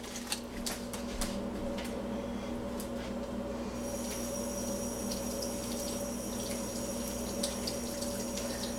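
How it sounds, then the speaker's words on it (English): A kitchen faucet runs steadily while a cook rinses ranch-coated hands after preparing pot roast, a continuous close hiss of water with a low hum beneath and a few faint clinks early on. "Gotta wash my hand really quick."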